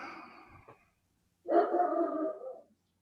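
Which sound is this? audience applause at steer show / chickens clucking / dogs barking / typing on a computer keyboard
dogs barking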